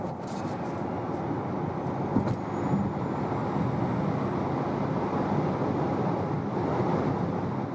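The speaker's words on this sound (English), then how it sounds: "So I'll put to 80 kilometers an hour and accelerate it out to 150" A Hyundai Ioniq 5 AWD electric car accelerates on a motorway from 80 to 150 km/h, heard from inside as a steady broad rush of wind and tyre roar with no engine note.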